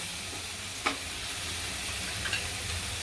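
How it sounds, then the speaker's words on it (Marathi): Cluster beans frying with thecha in a pan give a steady soft sizzle at low volume, with one brief stir or scrape near the start and a faint one later. "ठेचा पण परतून झालाय"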